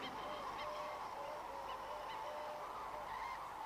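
Wintering cranes calling in a valley in Israel, scattered honking and trumpeting calls from a large flock, fairly distant over a steady broad wash of background noise.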